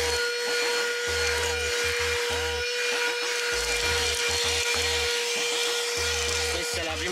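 A small cordless car vacuum cleaner on its first speed, nozzle removed, runs with a steady high whine while rubbing and scraping noises come and go, and low thuds interrupt irregularly.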